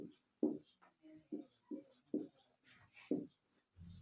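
Handwriting during a chemistry lesson: a series of short, scratchy strokes comes in a steady, close rhythm, each stroke quickly lifting off.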